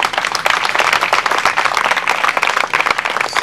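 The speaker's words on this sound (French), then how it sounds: "Donc vous devez vous applaudir" Steady, loud applause from a gathered staff audience at an evening reception in Grand Bassam, dense clapping filling the room continuously without a break.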